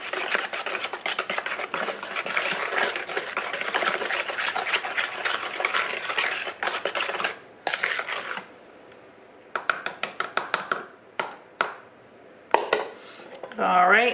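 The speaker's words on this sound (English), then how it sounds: "I'm going to stir that up real good" A spoon stirs zucchini bread batter in a bowl, making a steady run of scraping, clinking strokes. Sharper separate taps follow near the end.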